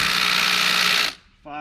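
An impact wrench hammers steadily on bolts of a 150cc GY6 ATV, one loud buzzing burst of about a second that cuts off, followed by a brief pause and the start of another burst.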